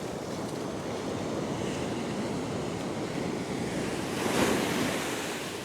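Powerful surf breaks and rushes continuously on a beach during fishing, a loud wash of churning water with wind buffeting the microphone and one wave surging louder near the end.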